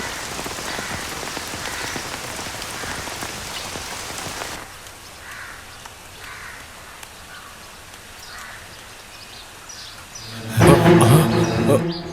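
Heavy rain pours down steadily near a temple water tank, a dense close wash of drops that thins briefly midway before swelling again, with a voice calling out near the end.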